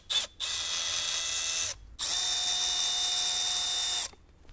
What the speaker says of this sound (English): let's go ahead and remove these two screws right here and right here